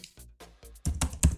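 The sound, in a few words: typing a command on a computer keyboard in a terminal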